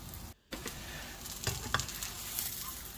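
Bread pakora frying in a pan over a low flame, giving a steady soft sizzle with a brief gap near the start and a few light crackles and pops.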